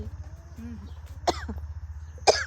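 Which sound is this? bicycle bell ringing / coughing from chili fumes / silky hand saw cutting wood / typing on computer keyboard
coughing from chili fumes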